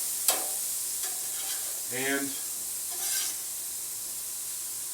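Ribeye steaks on a grill give a steady sizzling hiss as they are turned, with a couple of sharp tong clicks and someone talking briefly over the cooking.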